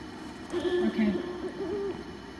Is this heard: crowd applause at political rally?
no